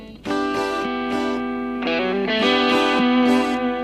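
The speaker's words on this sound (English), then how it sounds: "let's listen to the guitar tracks we have for this example" Dry electric guitar tracks recorded through amplifiers, playing sustained distorted chords and notes that shift in pitch every half second or so, loud and close with no added echo or reverb.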